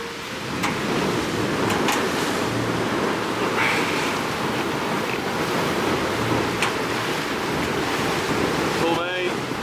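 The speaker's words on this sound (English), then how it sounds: "look at the wind." Constant wind roar and rushing waves around a sailing boat running with full main in rough seas off Greece, loud and close, with brief creaks and splashes and no clear talk.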